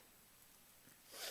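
One sharp, close sneeze bursts out near the end after a second of near-silence, a short breathy blast that stands alone.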